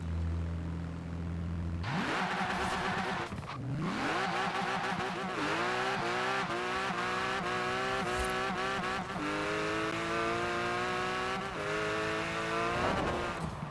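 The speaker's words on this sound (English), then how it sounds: "So that just smoked the tires up like a professional, because fucking still got the sport tires." A 2015 Porsche Cayman GTS with a Rocket Bunny street build in Forza Horizon 4 revs hard, then launches with screeching, smoking tires as the engine climbs through repeated rising sweeps, loud and continuous throughout.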